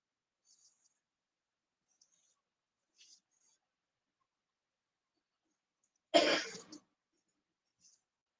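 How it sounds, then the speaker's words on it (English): One short, forceful throat clearing stands out in a quiet room, with a few faint clicks and small mouth noises before and after. "I'm clearing my throat constantly."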